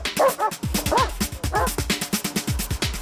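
A large search-and-rescue police dog barks and whimpers in an excited, rapid series of yips and barks close by, rhythmic and continuous throughout.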